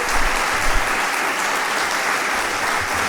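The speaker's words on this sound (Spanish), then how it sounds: "Pido por favor el aplauso para el equipo." A dense, steady burst of audience applause fills a hall at a human rights route inauguration in Oviedo, Asturias, many hands clapping close and loud without pause for about three seconds.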